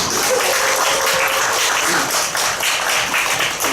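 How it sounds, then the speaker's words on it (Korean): A church congregation applauds steadily for a deacon during an afternoon worship service: dense, even clapping from many hands that fills the room at close range and holds for the whole stretch. "우리 최주열 집사님 박수 한번 쳐줬으면 좋겠어요"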